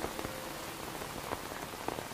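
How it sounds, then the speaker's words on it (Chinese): Heavy rain pours steadily in a dramatic outdoor scene, a dense, continuous hiss of drops striking surfaces with occasional sharper splashes, loud and close with no voices. "现在这么大雨，你不能淋雨。"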